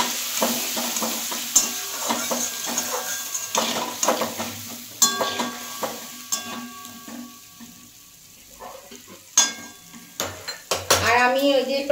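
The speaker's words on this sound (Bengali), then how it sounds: "এটা দিয়ে ভালো করে কষিয়ে নেব।" Spice paste is stir-fried with fried potatoes in a pan for a vegetarian soybean dish: a steady sizzle with repeated close scrapes and metallic clanks of the spoon against the pan, pausing briefly before quicker stirring resumes.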